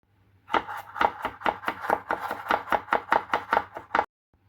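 A knife chops shallots, garlic and ginger on a board in a quick, even run of about fourteen crisp, close strikes.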